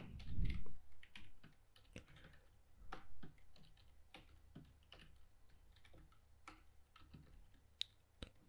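Typing on an external computer keyboard, with irregular clusters of soft key clicks and occasional sharper taps, fairly quiet and close, with a brief low thump at the start.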